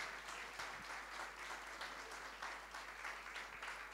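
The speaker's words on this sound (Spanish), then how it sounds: "¿Cuántos le dan un aplauso al Señor?" Congregation applauding during a church service, continuous dense clapping from many people, fairly faint and even, with a constant low hum underneath.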